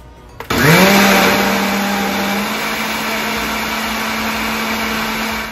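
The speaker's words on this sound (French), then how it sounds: "Je mixe tout ça." A blender whirs loudly and steadily as it mixes a yeast and honey blend, starting abruptly and holding a constant motor drone without any talk.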